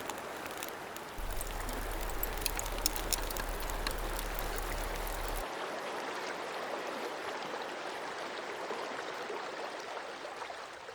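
A river flows steadily over gravel in autumn woodland, a broad continuous rushing wash that stays even throughout, with a low hum under the first half and no speech.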